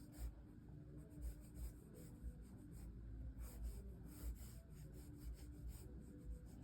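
Pencil sketching on paper with a steady, soft scratching and rubbing texture, close and continuous with faint rhythmic strokes under light background hiss, while drawing hair on a face.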